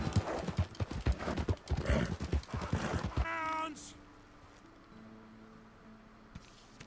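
Horse hooves clip-clop in Red Dead Redemption 2, a quick rhythmic run of close hoof strikes through the first three seconds mixed with game noise and a shouted voice, then giving way to quieter ambience.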